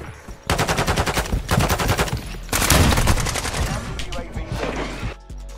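Rapid shotgun and automatic gunfire from the video game Modern Warfare 2, loud bursts of repeated blasts over about five seconds with brief pauses between volleys.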